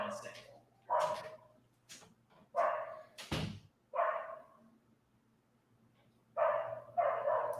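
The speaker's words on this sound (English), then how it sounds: "He's barking." A dog barks in scattered bursts, several sharp woofs close by with short pauses between, over a faint steady hum.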